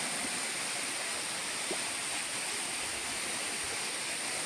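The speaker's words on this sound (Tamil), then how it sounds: "இதுதான் பாயக்கூடிய அருவி" Ulakkai waterfall in Kanyakumari pours in a steady, even broadband rush, continuous and unbroken with no voices.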